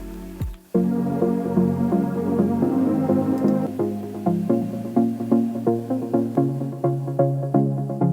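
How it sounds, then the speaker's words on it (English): A synth pluck pattern built from a couple of saw and square voices through a cutoff filter. It runs in a steady repeating rhythm of short notes that grow brighter and more defined toward the end, with no talking. "just a couple voices of saw and square with a cutoff filter"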